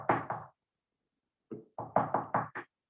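Knocking on a door: two close raps, a pause of about a second, then five quick knocks in a row, near and fairly loud with no talk.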